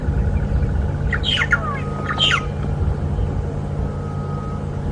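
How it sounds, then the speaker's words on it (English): A starling chirps overhead in two short bursts of squeaky, warbling calls against a steady background rumble of passing vehicles, on a game drive at Djuma Game Reserve. "That starling who's chirping away above our heads and making all of that noise"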